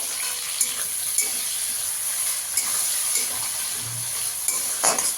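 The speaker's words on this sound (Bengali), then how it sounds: "টমেটোটাও একটু ভেজে নেব" Chopped tomatoes go into a pan of already fried onions and sizzle continuously, with occasional scrapes and clinks of a spatula stirring them; no one speaks.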